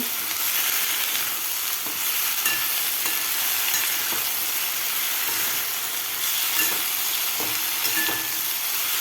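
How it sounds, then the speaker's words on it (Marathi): Sliced potatoes with salt being stirred in a frying pan, a constant close sizzle with repeated scraping and clinking of the spatula against the pan, no talking. "मीठ घातल्यानंतर व्यवस्थित आपल्याला हे हलवून घ्यायचं आहे जेणेकरून सगळ्या बटाट्याला मीठ लागलं पाहिजे"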